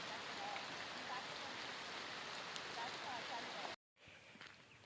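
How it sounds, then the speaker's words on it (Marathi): Dense, steady monsoon rain hisses down nearby during a rice harvest, broken by a brief silent gap near the end before the downpour resumes. "खूपच पाऊस आहे"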